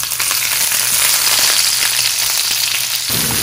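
Chopped onion frying in a pan, a loud continuous sizzle close by with light stirring scrapes, briefly shifting near the end.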